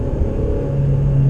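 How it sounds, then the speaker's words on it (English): Turbocharged engine of a 9th-generation Honda Civic Si HFP heard from inside the cabin: a loud, steady low rumble and drone with a rising tonal hum near the end, with no voices. "there's no intake, there's no exhaust, it's all engine noise,"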